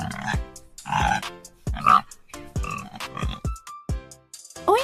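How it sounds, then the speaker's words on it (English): A pig oinks and grunts in a quick series of short, close, loud calls with brief gaps between them, heard alone with no talking. "This animal loves mud and says oink oink."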